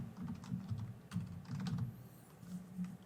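Typing on a computer keyboard, a quiet run of light rapid key clicks in short bursts with brief pauses between them.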